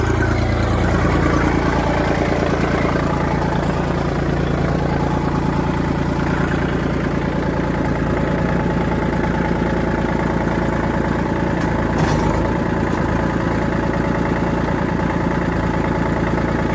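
A new Kubota L2501 tractor idles steadily with a loud, even diesel rumble and a low droning throb that holds for the whole stretch, close and unbroken.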